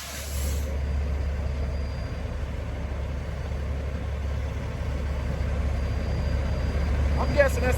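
A large tractor-trailer truck with air brakes rumbles at a low steady idle outdoors, with a brief sharp hiss near the end; no clear speech over the engine noise.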